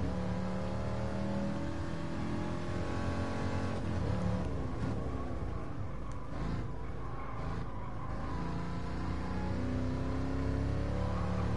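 An old 1969 Corvette V8 engine accelerating on the Nürburgring Nordschleife, a deep sustained roar with rising and falling revs through gear changes, loud and continuous from an onboard perspective, with no talking.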